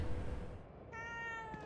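A cat in the video game The Evil Within 2 gives one drawn-out, steady meow in the second half, clear and close over a murky low game ambience; no talking.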